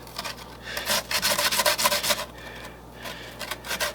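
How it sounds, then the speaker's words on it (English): Potatoes are rubbed against a grater for Irish boxty, giving rapid rasping scrapes in quick bursts of strokes, close and clear, with a brief pause midway and no talking. "Cup and a half of grated potatoes, okay."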